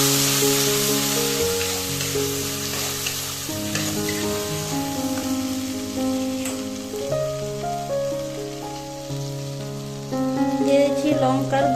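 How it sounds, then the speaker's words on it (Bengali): Mustard paste hits hot oil left over from frying fish for a curry, giving a steady sizzle under continuous background music with no talking. "ওই তেলেই আমি মশলাটা দেব। এখানে সরষেটা আমি তেল করে দিয়ে দিচ্ছি।"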